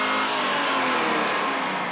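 Supercharged Chevrolet Camaro engine revving hard on a dyno, a loud, steady, dense roar holding at high output for the whole stretch with no pauses or voices.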